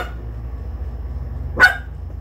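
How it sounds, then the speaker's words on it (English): A pet dog gives a single short bark, a sharp burst partway through an otherwise quiet stretch with a low steady background hum. "that's our dog."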